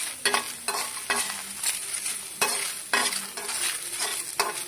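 Half a tomato and curry leaves fry in a pan for rasam, a continuous crackling sizzle punctuated by repeated scraping strokes of a spatula stirring them at a steady rhythm.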